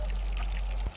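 Water pours steadily from a pipe piped in from somewhere along a hiking trail, a close, continuous rushing splash that cuts off near the end.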